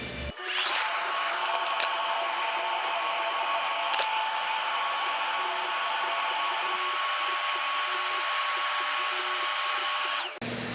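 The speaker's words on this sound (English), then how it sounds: "Got the blower hooked up." An electric blower inflating a blow-up paint booth starts abruptly, settles into a loud, steady high-pitched whine with a tonal hum, runs continuously and then cuts off.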